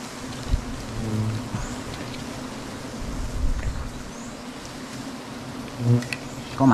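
Bees buzz around two freshly harvested hives in rainy outdoor conditions, a faint droning hum with brief louder passes and soft patter underneath.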